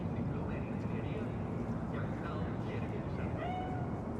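A cat in Cyberpunk 2077 gives a few short, faint meows over a steady engine-like drone, with speech close by.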